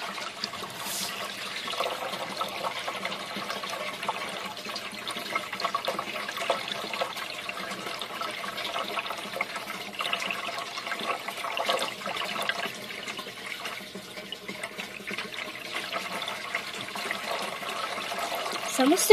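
A barrel bell siphon drains water steadily, gurgling and slurping as it begins to suck in air, a continuous close watery rush with bursts of sputtering, and a voice talks briefly over it.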